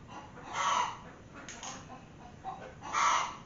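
Chickens cluck and squawk in bursts, with two louder calls at the start and end and softer clucks between, heard nearby in a garage setting.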